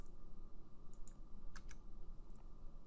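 Several sharp computer keyboard key presses, including F6, tapped at irregular intervals over a steady low background hum during lip-sync animation work, fairly close and distinct.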